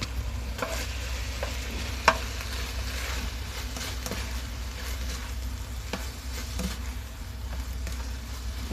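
Beef with bamboo shoots and bitter gourd being stir-fried in a pan, a steady close sizzle with occasional scraping and clinking of the spatula, no talk.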